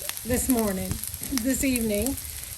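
Onions sizzle and fry on a Blackstone griddle outdoors on a chilly, breezy evening, a steady close hiss running beneath a voice that talks over it.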